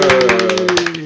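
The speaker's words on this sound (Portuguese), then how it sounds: "agora a gente bate palmas junto" A group of people clap together in a quick, even rhythm for about a second, the claps loud and close over a sustained tonal hum.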